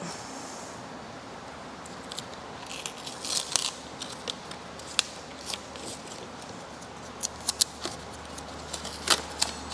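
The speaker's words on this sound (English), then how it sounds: "Now peel away the template." An adhesive install template is peeled away from the body of a C8 Corvette Stingray while dive planes are fitted, giving faint, sparse crackles and ticks over a low steady hum, with a short cluster near the end.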